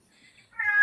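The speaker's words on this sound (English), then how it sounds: "There is a very emotionally needy cat somewhere in someone's house." A house cat gives a single rising meow close by. It starts faint and swells into a loud, drawn-out cry near the end, and no one speaks over it.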